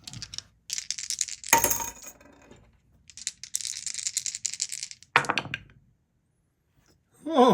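Two dice rolled for a board wargame, several bursts of clattering rattles and sharp knocks close by, separated by short quiet gaps, with a final knock at the end.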